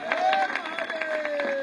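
Crowd clapping and cheering at an outdoor political rally in Kamthi, a steady dense patter of applause with a voice on a sustained tone over it, loud and close throughout.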